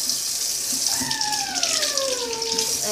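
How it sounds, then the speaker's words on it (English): Hot tap water streams steadily while a toy pony's synthetic mane and tail are rinsed beneath it, a broad hiss running throughout with a brief descending squeak-like tone in the middle. "You want to run the mane and tail under the hot water"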